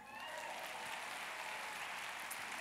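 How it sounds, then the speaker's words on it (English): A church congregation claps, heard as a faint distant wash of steady applause with a few brief voices mixed in. "You can clap your hands."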